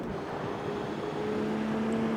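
A BMW E93 M3 engine in the racing game CarX Street holds a steady droning tone that rises gradually in pitch, smooth and continuous with no speech.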